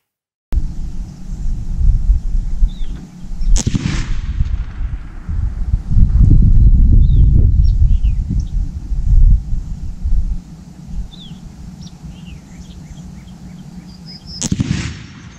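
A lightweight Kimber 84M hunting rifle in .308 Winchester is fired at a range, with a few sharp, loud shots spaced well apart and heavy wind rumble in between.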